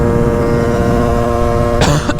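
A single cough bursts out near the end over the loud, steady drone of a Derbi moped fitted with a 70cc Metrakit kit and ridden while being broken in.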